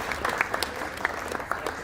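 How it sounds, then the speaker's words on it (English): An audience at a school awards ceremony gives a short burst of light, scattered applause, quick uneven claps close by at moderate volume, with no one talking over it. "You can hold your applause till we're all done."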